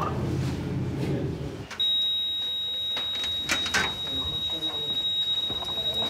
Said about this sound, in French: Donc on a un déclenchement d'alarme.